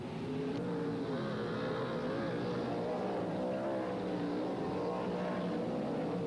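Sprint cars race around a speedway at a 1984 NSW title meeting, their engines a continuous, dense roar that swells slightly as they drive out of a turn, heard from a distance without talk.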